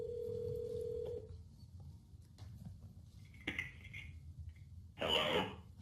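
A Mac places a speakerphone call through a paired phone: a steady tone sounds for about a second, then brief clicks and electronic beeps follow, ending in a louder burst of ringing, all heard close and without talk.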